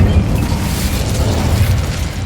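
Incendio fire spell cast in Hogwarts Legacy, a loud sustained whooshing roar of flame with a low rumbling body that holds steady and close throughout.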